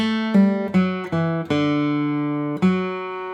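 A short guitar phrase of several plucked notes, including quick slurred note changes, ringing clearly with no voices.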